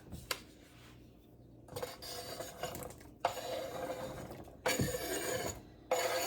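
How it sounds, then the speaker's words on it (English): Chunks of potato and sliced carrot tumble into a beef stew pot in a few separate bursts of close clatter and thumps, with quieter gaps between drops and no talking. "we're going to throw in the potatoes, and we're going to throw in the sliced carrots"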